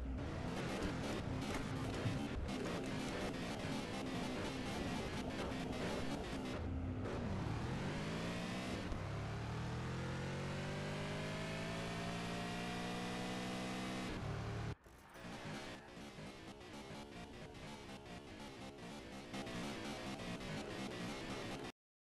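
A Dodge Viper in Car Parking Multiplayer launches down a 402 m drag strip, its engine screaming up through the revs in long rising sweeps broken by sharp gear changes, loud and close throughout.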